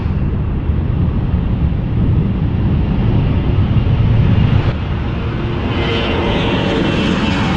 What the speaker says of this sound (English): we have the one that was planning to take off, so we'll get to see it take off